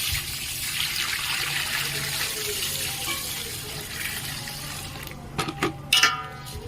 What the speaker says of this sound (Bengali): আমি জল দিয়ে দিলাম।